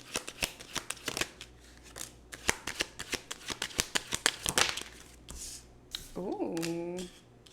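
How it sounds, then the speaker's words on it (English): Tarot cards being shuffled by hand, a rapid run of crisp riffling flutters near the mic, with a brief rustle and a short voiced sound toward the end. "We're going to pull some tarot cards and then we're going to pull some oracle cards to top it off."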